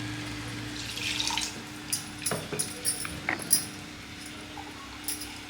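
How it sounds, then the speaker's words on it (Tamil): Tamarind water is poured into a simmering sardine fish curry in a home kitchen, giving a soft liquid splash and trickle followed by a few faint clinks and drips, quiet and close. "அப்போவே நம்ம புளி தண்ணியை ஊற்றிடலாம்"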